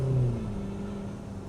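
An MG Majestor SUV accelerating in normal mode, a low engine drone rising briefly at the start and then settling into a steady, moderate cabin rumble.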